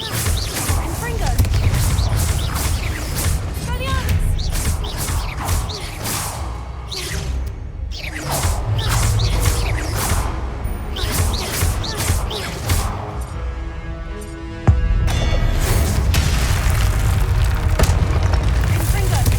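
Booming spell blasts from Hogwarts Legacy combat, a Confringo fire spell exploding repeatedly amid whooshes and crashes over a dense, loud game soundscape, with voices talking throughout.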